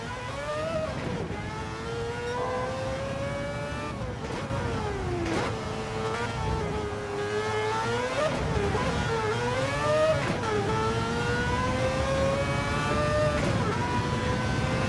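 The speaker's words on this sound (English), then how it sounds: "Love the sound of that car." A race car engine at Le Mans holds a steady, loud drone whose pitch rises and dips repeatedly as the car accelerates and lifts off, continuous for the whole stretch.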